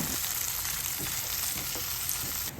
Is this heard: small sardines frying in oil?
yes